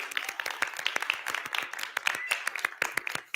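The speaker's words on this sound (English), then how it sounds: "Round of applause" Small crowd applauding at an art exhibition, with clearly separate, crisp claps in an uneven patter, fairly close and loud.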